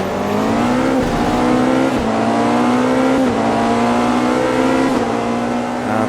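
GTP and GT3 race car engines in Automobilista 2 during a multi-class race, one loud engine revving hard with repeated upshifts and brief drops in pitch, with other cars audible around it and no talking.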